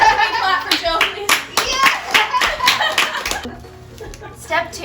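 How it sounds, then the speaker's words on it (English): Several people clap for an assistant during a home cooking session, with a brief round of hand claps mixed with voices and light laughter before it trails off. "Can we clap for Jill, please?"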